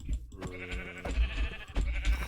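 Sheep in Minecraft bleat in several short, close, nasal calls in quick succession over a low thumping background.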